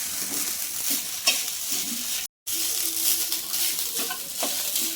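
Coconut rice frying in a pan while being stirred, a continuous close hiss and sizzle with scraping strokes of the spoon, broken by one brief gap, no talking.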